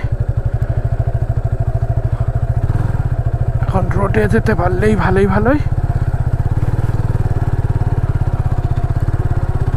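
A motorcycle on the sand at Dublagadi beach in Odisha, in first gear, with close, rapid, steady engine thumping throughout while someone speaks briefly midway.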